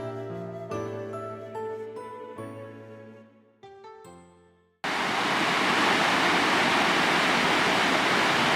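Water rushing over a lake spillway bursts in as a loud, dense, steady roar after several seconds of piano music, continuing unbroken to the end.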